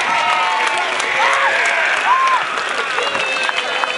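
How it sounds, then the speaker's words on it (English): An audience applauds role players with sustained clapping, cheers and whoops rising above it, with a brief murmur of voices mixed in. "How about we give a round of applause to our role players out there?"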